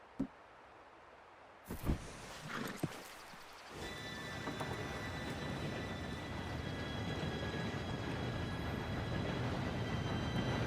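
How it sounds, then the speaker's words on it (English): A steam train arrives in Red Dead Redemption 2 in a snowy outdoor setting: after a few clanks and thumps, a rising rumble and rattle of rail cars with a high metallic squeal swells and holds steady. "Train should be here any minute now."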